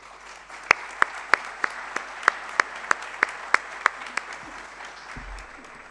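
A single person claps slowly and steadily at a public talk, about a dozen crisp, evenly spaced claps over a quiet room, ending with a low thump.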